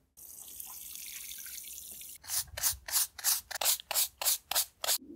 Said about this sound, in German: Zuerst mal sollten wir unsere Steine auf jeden Fall noch ordentlich abwaschen. Das geht am besten mit einer einfachen Gießkanne